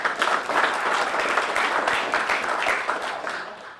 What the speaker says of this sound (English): Give Raphael a round of applause.